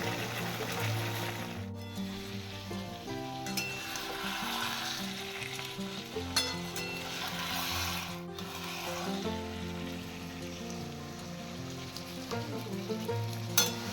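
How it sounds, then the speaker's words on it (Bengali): Spice masala with a spoonful of sugar fries steadily in a pan for Bengali-style mutton fat ghugni, a continuous close sizzle and crackle with occasional stirring scrapes throughout. "এবার মশলার সাথে একটু কষে নিব আমি এক চামচ চিনি দিলাম"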